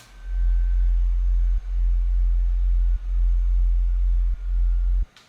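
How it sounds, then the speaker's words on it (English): Deep Serum synth sine-wave bass with a modulated filter, played as four sustained notes with brief gaps between them, loud and clean with no talk. "it's actually just a sine wave,"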